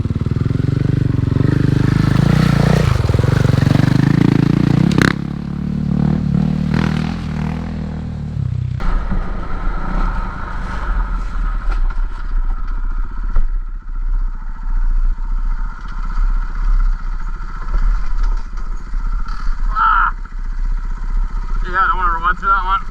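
A KTM 500 dirt bike ridden off-road along a bush track, its engine droning and revving steadily for the whole stretch, with clattering and scraping over rough ground and someone talking loudly at the start.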